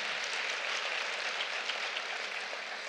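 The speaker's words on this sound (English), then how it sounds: "Yeah, clap." An audience at a career conference keynote claps steadily and evenly, a dense wash of applause with no pauses.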